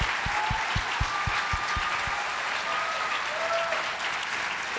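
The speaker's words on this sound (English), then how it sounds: "Keep that applause going." Sustained audience applause fills a tribute event for Herbert Wigwe, a dense even roar of many hands with rhythmic low thumps in the first half that then fade, leaving the clapping alone.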